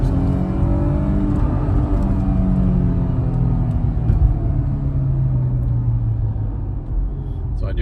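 A Porsche Panamera in sport mode pulls away from a stop in second gear, its engine rumbling close and loud as the pitch climbs steadily under acceleration.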